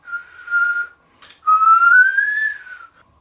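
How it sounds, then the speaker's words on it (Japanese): A professional whistler plays a melody: a clear, close whistled note held for a moment, then after a brief click a longer note that slowly bends upward before fading, with no talking. "口笛ってもともとそういう楽器なんですよ"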